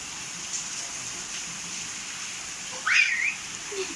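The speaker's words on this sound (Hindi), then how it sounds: "धूप भी आ रही है, बारिश भी आ रही है।" Rain falls while the sun shines, a steady, even hiss of drops that stays at the same level throughout, with a brief whistle-like chirp standing out near the end.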